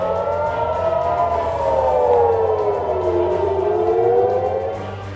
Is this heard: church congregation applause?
no